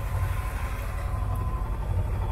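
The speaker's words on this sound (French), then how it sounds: "On vient de redémarrer le moteur." The inboard engine of a sailboat cruising off the west coast of Sardinia near Capo Caccia runs after a restart, a steady low rumbling drone with a faint higher hum, continuous and fairly close, with no voices.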